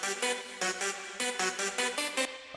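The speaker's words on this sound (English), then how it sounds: "The main sound of the lead is like a vocal lead type preset. It sounds like this." Vocal-style synth lead preset in an electronic track, playing a rhythmic run of bright, harmonically rich stabs in short bursts with brief gaps, loud and close with no voices.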